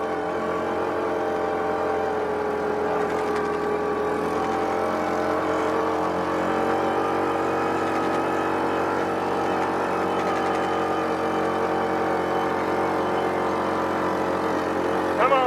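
A Yamaha Rhino utility vehicle in 4-wheel lock runs under load, its engine droning loud and steady with slight pitch swells, heard alone throughout.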